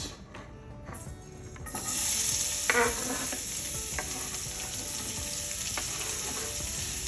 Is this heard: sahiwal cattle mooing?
no